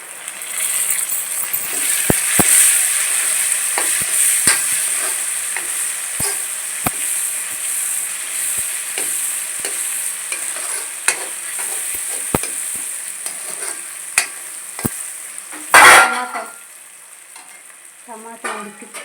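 Tomato and bitter gourd fry in a pan, stirred with clicking spatula scrapes over a steady sizzle, one louder clatter near the end.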